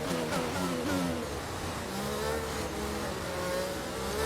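An F1 car engine in F1 22 at the Belgian circuit revs and climbs through its gears, a high whining pitch repeatedly rising and stepping down with each shift, steady and fairly quiet throughout.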